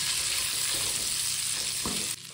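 Chicken pieces frying in melted butter over a strong flame give a steady, loud sizzle that cuts off sharply near the end, with no voices.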